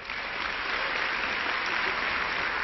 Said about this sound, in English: let's begin by giving a big round of applause for Trey Martinez Fisher